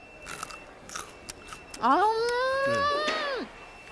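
A crunchy cucumber-flavored pepper is bitten at a live market broadcast, giving a few quiet, close crisp crunches. A drawn-out voiced hum of appreciation follows.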